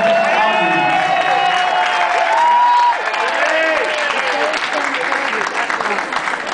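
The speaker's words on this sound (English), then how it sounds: "Big round of applause for Grant Richardson." Steady applause with cheering from a crowd at a skating performance, loud and continuous throughout with voices calling over the clapping.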